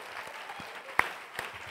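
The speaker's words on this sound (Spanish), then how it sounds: "Aplaudamos al festival." An audience at the closing ceremony of the 36th Mar del Plata International Film Festival applauds, a brief steady patter of clapping with one or two louder claps standing out.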